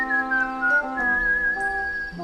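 A happy tune is whistled in a clear, pure melodic line with sliding and stepping notes, heard alone and close.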